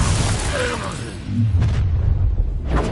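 An Expelliarmus spell effect in a Harry Potter duel gives a booming blast. A sustained rumble is followed by two short bright crackling bursts near one and a half and nearly three seconds, with a faint voice in the background.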